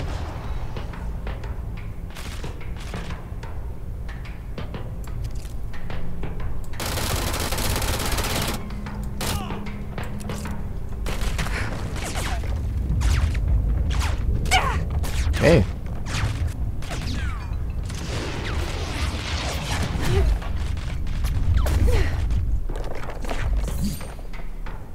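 Rapid gunfire crackles continuously for the whole stretch in the video game Control, with occasional heavier explosion booms and thuds mixed in, dense and relentless.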